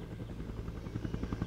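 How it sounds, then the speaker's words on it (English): Helicopter rotor chopping steadily overhead as it circles a hovering object, a continuous rhythmic thumping that stays fairly constant in level, with no voices. "a helicopter arrived and began to circle around the object"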